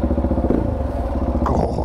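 A motorcycle engine fires up and runs with a rapid, chugging low rumble, loud and close, followed by a brief mechanical clatter.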